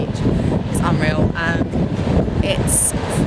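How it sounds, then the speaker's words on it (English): Strong wind at Twilight Beach buffeting the microphone in loud rumbling gusts, with a voice talking over it. "It's beautiful, but it is very windy."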